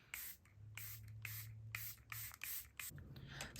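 A spray bottle of makeup setting spray mists in a series of about seven quick, sharp, hissing spritzes with brief gaps between them. The bursts are close and crisp, with no voices.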